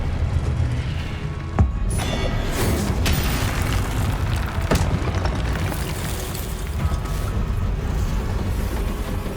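Booming blast of a Confringo spell in a Harry Potter video game, a dense, loud roar of fiery explosion noise filling the scene with a few sharper bursts, no talking.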